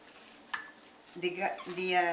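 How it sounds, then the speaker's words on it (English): Stuffing being stirred together with chopped onions, hard-boiled egg and breadcrumbs in a bowl: a short, close scraping stir that picks up toward the end, joined by faint tonal, voice-like sounds. "Mix it thoroughly, mix it well"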